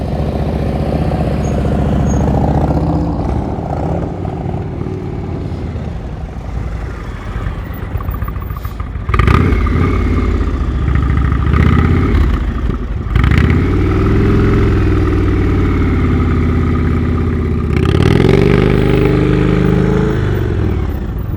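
Motorcycles ridden at slow speed during an advanced slow-speed riding practice session, giving a steady engine drone with several throttle swells and rev rises, close and fairly loud, with no talking.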